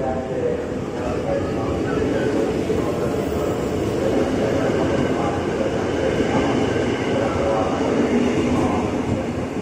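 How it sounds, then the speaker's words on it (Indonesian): A commuter train bound for Bogor rumbles and hums continuously as it pulls away from platform 11, a broad steady roar with muffled voices in the background. "berangkat lagi dari jalur 11 komuter tujuan Bogor"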